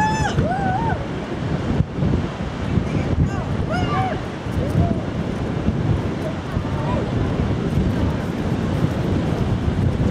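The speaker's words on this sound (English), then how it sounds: "Very cold wind today." A cold wind blows on the coast at Sheringham, Norfolk, with the tide out, a steady rough rumble buffeting the microphone throughout. A few brief, high wavering cries come in the first half.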